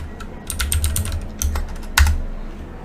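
Rapid typing on a computer keyboard, close and clear, with bursts of key clicks and a few heavier keystrokes, alone without speech.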